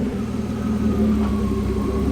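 BMW E36 drift car engine running on a dyno, a steady loud mid-pitched drone with a slight rise in revs, heard alone without talk.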